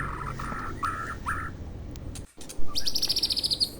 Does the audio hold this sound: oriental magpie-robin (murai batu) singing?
yes